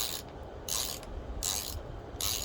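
A ratchet clicks in short bursts, four quick strokes in an even rhythm, close and fairly quiet, as handlebar riser bolts are snugged down on a Honda Rebel 1100 DCT motorcycle.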